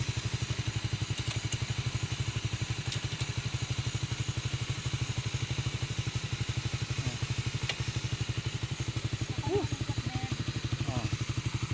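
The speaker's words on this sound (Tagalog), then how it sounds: "Tingnan mo Kapordoy paano siya mag-ikot ng motor" A Rusi Raider 150 Fi motorcycle engine idles steadily at close range, a rapid even putter running throughout with faint clatter on top.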